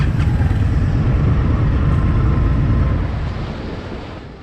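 A 2023 Indian FTR motorcycle engine rumbles low and steady during a ride, mixed with buffeting wind, then gradually eases off and softens toward the end.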